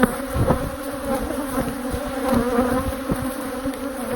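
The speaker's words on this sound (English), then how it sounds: "bees act in a different way. Right now they're going crazy because we are in the middle of a honey flow." Honey bees swarm around an open hive during a honey flow, a dense continuous buzzing hum up close with individual bees droning past in louder swells.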